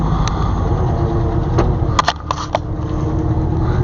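A 56-year-old two-wheel-drive Ford F-250 work truck's engine runs with a steady, loud rumble, broken by a few short knocks near the middle, with no talking.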